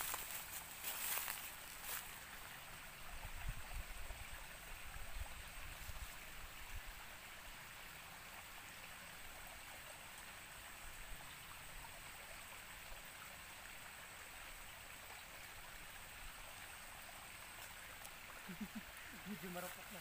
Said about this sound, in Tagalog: Parang malakas yung lagaslas ng tubig niya.